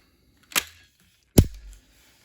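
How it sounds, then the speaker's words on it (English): A Remington IZH18MN (Baikal IZH-18MN) single-shot break-action shotgun has its action broken open, giving two sharp metallic clicks about a second apart, close and distinct in a quiet room with no talking. "when you're breaking the action open, like so"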